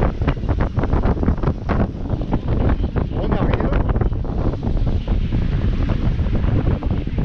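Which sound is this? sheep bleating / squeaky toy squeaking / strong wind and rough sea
strong wind and rough sea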